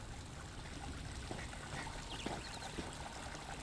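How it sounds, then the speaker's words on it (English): A big waterfall in the video game Elder Scrolls Online, set in a custom-built home, gives a steady broadband rush of pouring water, moderately loud and continuous, with no talk. "You see that other big waterfall out this side."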